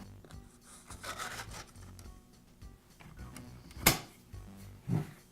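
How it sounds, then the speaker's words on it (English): Soft rubbing and handling noises fill a quiet space, punctuated by two sharp clicks or snaps as a sanding belt is fitted onto a Makita belt sander. "And I'll finish up by reinstalling the sanding belt."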